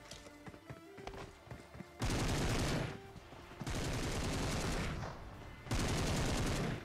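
Bursts of automatic gunfire in the PUBG / BGMI battle royale video game, loud sustained volleys of rapid shots in three long stretches, with quieter scattered game sounds between them.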